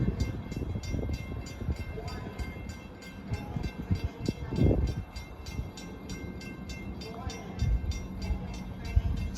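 A diesel commuter train rolls through Bethpage station during the evening rush, a steady rumbling roar with rhythmic clicking of wheels over the rail joints, fairly close throughout.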